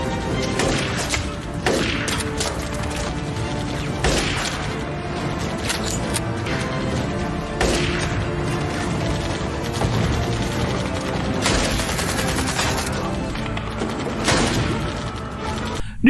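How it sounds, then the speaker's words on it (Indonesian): Soldiers firing on Chinese troops in a sniper battle, heard as sharp gunshots and crashing impacts that burst out every few seconds over a busy, dense clatter of action, close and loud. "Ia juga menembaki para pasukan Cina."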